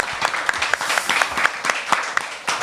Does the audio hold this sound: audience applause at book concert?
yes